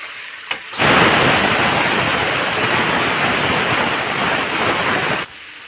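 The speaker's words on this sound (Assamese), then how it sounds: "এইফালে পোলাওৰ চিটি বাজি গৈছে" A pressure cooker whistles while chicken pulao cooks on a gas stove: a loud, sustained hissing blast of steam that starts abruptly, holds steady for about four and a half seconds, then cuts off.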